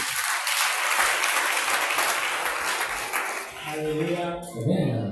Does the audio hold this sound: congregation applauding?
yes